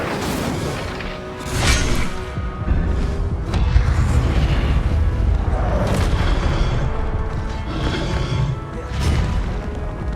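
Spell effects crackle and boom in Hogwarts Legacy as an Incendio fire spell is cast amid combat, with dense, loud bursts and impacts layered over continuous action noise throughout.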